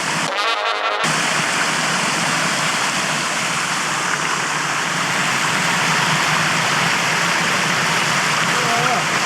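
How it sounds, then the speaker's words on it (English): A small waterfall on a hiking trail along the Brontë Way, with a steady, close, loud rush of falling water that fills the whole stretch after a brief opening burst. "nice little waterfall"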